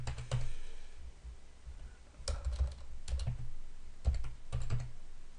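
Keys clack on a computer keyboard in short bursts separated by brief pauses, close and clear in a quiet room.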